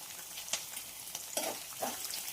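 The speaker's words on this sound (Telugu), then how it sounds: "ఇప్పుడు కరివేపాకు వేస్తున్నాను" Curry leaves hit the pan for a beetroot fry, making a soft, fairly faint hiss with a few light crackles and stirring scuffs over a short stretch.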